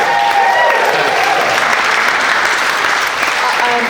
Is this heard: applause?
yes